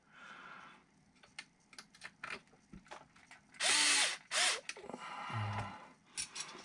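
A power drill drives screws during reassembly of an Axial SCX6 Trail Honcho 1/6 scale crawler: scattered close clicks and rattles, then two short loud whirring bursts and softer ratcheting.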